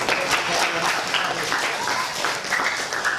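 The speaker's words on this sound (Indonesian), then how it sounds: "Kasih tepuk tangan" Students clap together in a high school classroom at the end of a group presentation, a dense, steady burst of applause lasting a few seconds with some voices mixed faintly underneath.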